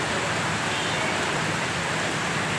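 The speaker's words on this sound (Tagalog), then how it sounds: "Talagang kita mo yung butil ng ulan, talagang malalaki." Heavy rain with large drops falls in Metro Manila, the first rain of the season, a dense, steady hiss filling the space evenly without pause.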